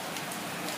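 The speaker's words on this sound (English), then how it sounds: "look at all this rain, folks. Torrential downpour, flood." A torrential downpour during a flood in Tempe, Arizona makes a dense, steady hiss of rain pounding surfaces, close and continuous, with no talking.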